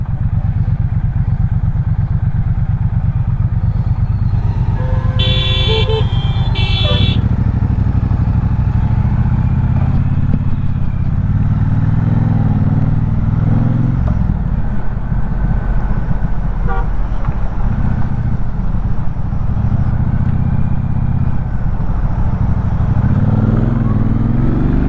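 A Triumph Speedmaster 1200 cruiser motorcycle rides along with a loud, continuous low engine rumble and wind, a brief horn toot near the start, and no talk.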